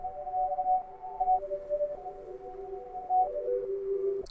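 A melodic synth lead line from FL Studio plays alone, sustained tones stepping down through several held notes at a steady moderate level, with a short bright blip at the very end.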